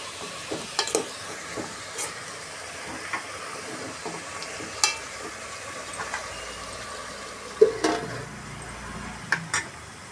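Cut potatoes and vegetables frying in a pan for curry, a faint steady sizzle with occasional soft clinks and stirring taps.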